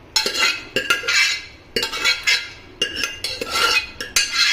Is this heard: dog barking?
no